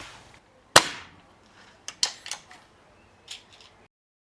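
Gamo Delta Fox air rifle firing Bisley practice pellets: one sharp crack followed by several lighter snaps and clicks of cocking and loading, close and crisp in a quiet room.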